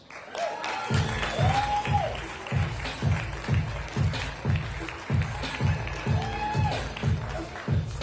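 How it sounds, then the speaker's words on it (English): An audience at the Mayor's Arts Awards applauds with loud rhythmic clapping in a steady beat, people cheering and whooping over it at intervals. "Please give a rousing round of applause for Rose Jaff, Kiana Clark, and Rebecca Crouch"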